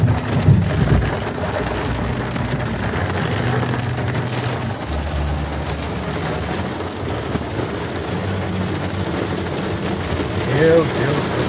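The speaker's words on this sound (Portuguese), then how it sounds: "Moradores gravaram o momento da chuva forte" Heavy rain pours steadily in western Santa Catarina, a dense, loud hiss of water on surfaces with faint rumbling underneath and occasional voices in the background.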